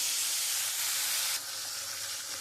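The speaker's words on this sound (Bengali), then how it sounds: "চলো আমি নুন হলুদ মাখিয়ে আমি মাছটা ভাজতে দেবো" Bhola fish rubbed with salt and turmeric sizzles steadily in hot oil, a loud, dense, close frying hiss that drops slightly in level partway through and carries on with no voices.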